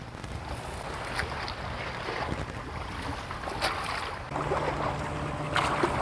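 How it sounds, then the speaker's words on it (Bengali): A boat circles close around a small island on Maithon lake, its steady motor hum running under wind buffeting the microphone and faint water noise. "এই সামনে দিয়ে ঘুরিয়ে নিচ্ছে আমাদের নৌকা"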